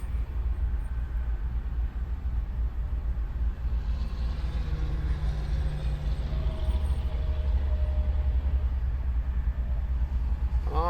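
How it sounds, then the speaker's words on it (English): A locomotive moves along a rail line at a railyard, a continuous low rumble and engine drone at moderate distance with a faint metallic squeal near the end. "looks like he's a locomotive doing something now"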